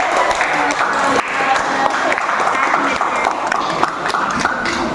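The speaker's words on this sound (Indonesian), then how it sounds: "Tepuk tangan." Participants at the end of an Indonesian school counseling training session applaud, a loud, dense and steady wash of clapping with voices murmuring underneath throughout.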